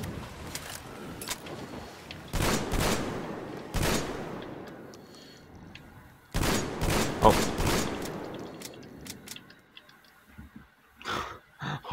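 Gunfire in the video game Metro Exodus: loud bursts of shots in clusters, several sharp blasts early, then a rapid string of shots mid-clip and a few final bursts near the end, with reverberant tails.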